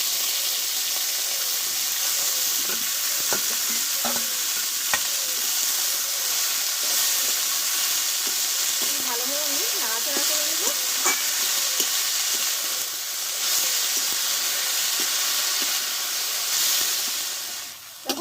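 Chopped pea greens (motor shak) sizzle steadily in a hot pan with five-spice seasoning, a continuous bright hiss broken by occasional scraping stirs and soft clinks.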